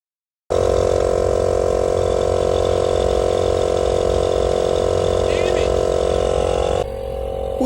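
Air compressor running loud and steady close by, a continuous mechanical drone with a rattling edge that holds unchanged for about six seconds before easing off slightly near the end.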